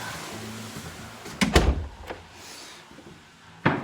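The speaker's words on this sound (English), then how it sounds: "let me shut this door" An interior door in a house under renovation after a knob-and-tube rewire swings and thuds shut with a muffled knock, followed by a couple of lighter bumps and a final click.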